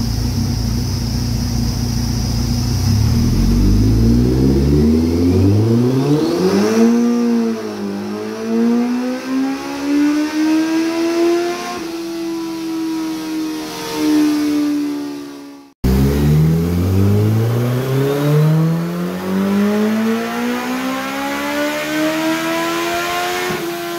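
A nitrous-fed first-generation Hayabusa motorcycle engine screams through two full-throttle pulls on a dyno. Each pull rises sharply in pitch, loud and close, and the first is cut off abruptly before the second climbs again.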